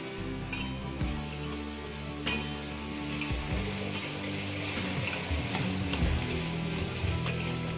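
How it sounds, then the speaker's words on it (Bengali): Onions frying in a wok give a steady, loud sizzle with occasional stirring scrapes and clinks, continuous and close throughout. "পেঁয়াজটা একটু লাল লাল করে ভেজে নেব।"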